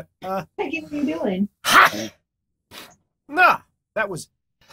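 One sharp, explosive sneeze bursts out between short snatches of a person talking nearby.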